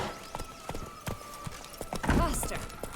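Roach the horse gallops in The Witcher 3, hooves clip-clopping in a quick uneven rhythm over game ambience, with a louder burst of movement near the end.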